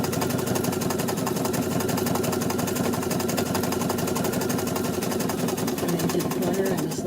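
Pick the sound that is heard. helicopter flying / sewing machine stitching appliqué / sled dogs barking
sewing machine stitching appliqué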